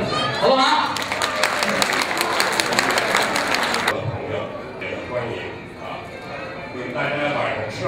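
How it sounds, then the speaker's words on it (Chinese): Dense clapping from a banquet crowd at a 2008 Spring Festival Gala celebration party breaks out for about three seconds, then fades into the murmur of the room with voices. "我想请呢大家用掌声欢迎"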